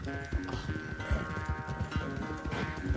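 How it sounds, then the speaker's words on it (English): A heavy-set horse gallops in Red Dead Redemption 2, its hooves beating a quick, steady rhythm under a sustained ambient tone from the game. "This horse is kind of fat."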